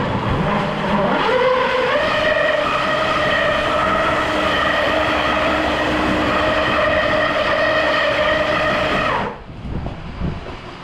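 A Power Wheels jeep upgraded with a 3kW motor drives in low gear, its electric motor whining up to a steady, loud, sustained pitch for several seconds before cutting off abruptly near the end.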